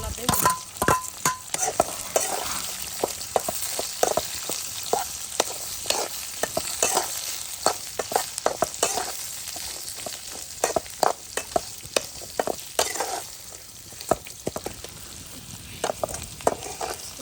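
Shallots, brinjal, curry leaves and crushed garlic sautéing in a pan, with a continuous sizzle broken by repeated scraping and stirring clatters from a spoon throughout, close and fairly loud, with no speech.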